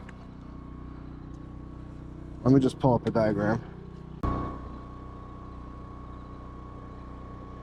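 A portable generator drones steadily throughout, its constant engine hum sitting beneath a short stretch of someone talking and a single clunk.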